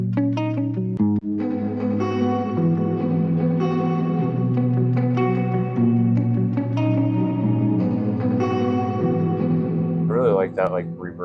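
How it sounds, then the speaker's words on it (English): Sustained synth tones wash out into a long, echoing reverb tail, layered chords blending and decaying over several seconds, with a brief warbling sweep near the end. "That like reverb tail."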